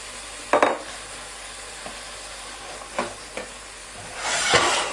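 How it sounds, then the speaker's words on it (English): Butter and mascarpone sauce stirred in a pan off the heat, soft scraping strokes and light sizzle with a few clinks of the utensil, then a louder hissing swell near the end. "Take that off the heat and just stir that sauce through."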